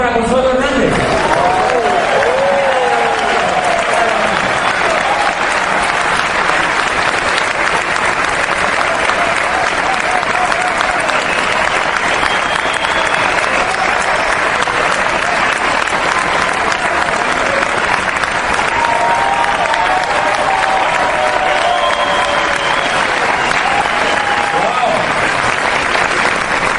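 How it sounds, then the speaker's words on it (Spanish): Loud, continuous audience applause filling a hall during a motivational talk, dense and even throughout, with faint voices and tonal sounds threaded through it. "Un aplauso para Consuelo Hernández."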